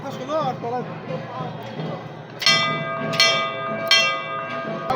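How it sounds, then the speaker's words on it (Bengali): A voice speaks briefly, then a metal bell at Omkarnath temple in Kolkata is struck three times close by, each ring leaving a bright, lingering tone. "এখানে একটা ঘন্টা আছে ঘন্টাটা একটু বাজিয়ে যাই"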